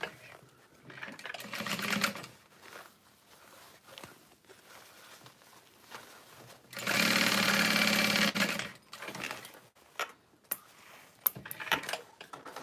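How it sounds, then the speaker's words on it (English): A sewing machine stitches a bag seam, starting with short stop-start bursts and mechanical clicks, then running in one steady, loud whir for about two seconds before more brief clicks and taps. "And then you just bring it together flat and sew it."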